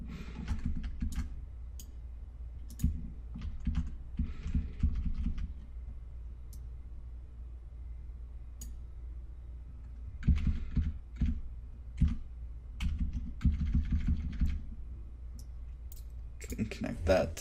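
Bursts of keyboard typing and clicking on a computer keyboard, with quiet pauses in between, sitting close and fairly faint beneath occasional talk.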